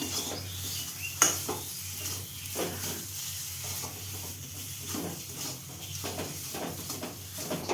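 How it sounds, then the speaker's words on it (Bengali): A thick mixture of ground jackfruit seeds, salt, a pinch of sugar and gram flour stirred in a pan, giving repeated soft scrapes and knocks of a spoon against metal over a faint sizzle, close by with no talk. "নাড়াচাড়া করে নেব।"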